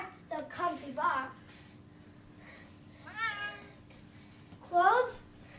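A cat meows repeatedly from inside a latched box fitted with a soft tube: a quick cluster of cries at first, then two more separate meows, fairly close and clear against a quiet background.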